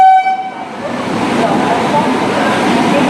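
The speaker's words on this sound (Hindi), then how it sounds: "और ये देखो एक और ट्रेन आ गया है।" A train arrives at Ujjain Junction railway station in India, opening with a loud sustained horn blast that gives way to a steady rolling rumble of the train coming in close.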